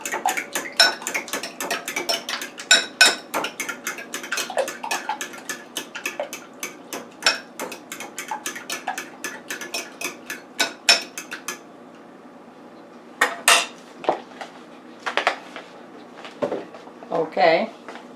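Half and half being whisked into a salmon quiche filling, a rapid run of sharp utensil clicks against a bowl that pauses briefly, then resumes in a few short bursts, close and fairly loud.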